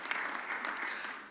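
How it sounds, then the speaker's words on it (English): Audience applause at a Philadelphia mayor's news conference about a Sixers deal, with Flyers management present; steady, dense clapping of a moderate crowd, continuous throughout and fairly soft, with no talk over it. "Give them a round of applause."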